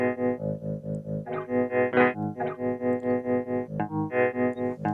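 An Intellijel Multigrain granular Eurorack module loops a sample forward and backward at a set speed and loop length, giving a steady pulsing, buzzy, distorted tone that repeats in even swells and sits loud and alone.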